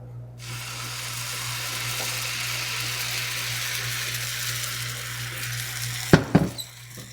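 Oil heating in a hot skillet before pancake batter goes in, giving a steady, fairly loud broadband sizzle and hiss under a low hum, with a few brief clatters near the end.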